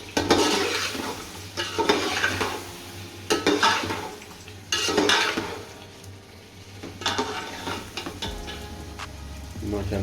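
A spoon scrapes and stirs aloo bukhara (dried plums) through chicken biryani masala in a pot, in repeated bursts over a steady low hum, with faint sizzling underneath.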